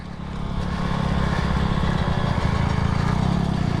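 Kawasaki KX100 and Honda CRF150RB dirt bikes race with loud, continuous engine roar, revving hard and fairly close throughout.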